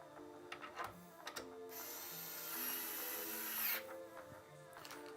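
A small electric screwdriver drives screws into a Corsair 5000D Airflow PC case, giving a faint two-second whirring buzz and a few light clicks of metal parts before and after, all quiet and close, with no speech.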